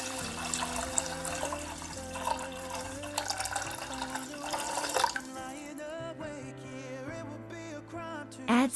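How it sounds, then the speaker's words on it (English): Water runs steadily into a pot of rice, a continuous pouring splash that changes pitch as the level rises, heard over soft background music. "Fill the rice with water."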